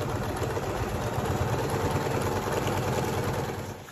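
Sewing machine stitching Velcro onto thick outdoor cushion fabric, a steady close motor drone and needle rattle running for about four seconds before fading slightly at the end.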